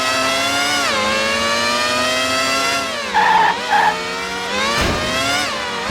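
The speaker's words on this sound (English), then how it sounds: "I can even hear the ghost car crashing." In F-1 World Grand Prix II on Dreamcast, a ghost car's engine whines loudly as it races, then skids with sharp tire squeals and a crashing thud before the engine note resumes.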